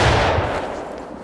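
A musket volley fired by rank in the Civil War game War of Rights booms at once and then fades into a rolling echo, loud and close, without talking.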